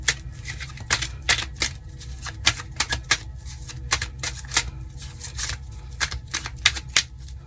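Tarot cards are drawn and shuffled in quick, crisp slapping bursts and flicks that repeat irregularly throughout, close and fairly clear over a low steady hum, with no talking.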